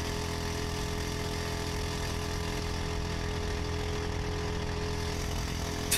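Small four-stroke lawnmower-type engine on a rental kart in the Automobilista 2 racing game, a steady buzzing drone held throughout at constant loudness, with no talk.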